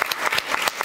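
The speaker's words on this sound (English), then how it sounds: "Can you have a big applause" A lecture audience breaks into a short burst of applause for the speaker, many hands clapping in quick, uneven bursts, fairly close and loud.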